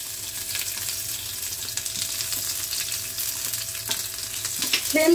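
Garlic sizzling in hot mustard oil with a pinch of cumin seeds over a full flame, a steady broadband fry running throughout with a few louder pops near the end.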